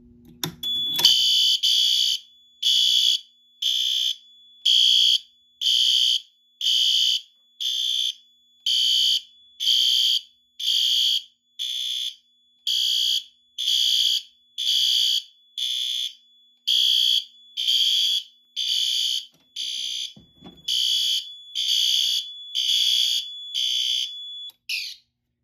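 A Fire-Lite MS-4424B fire alarm system, triggered from a Simplex test switch, sounds about twenty regular loud electronic horn blasts with short gaps between, steady and close, with no voices.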